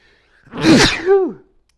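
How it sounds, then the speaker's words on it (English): A single loud, close sneeze with a sharp explosive burst, followed by a short voiced tail, alone without talking. "I didn't mean to sneeze in y'all's face like that."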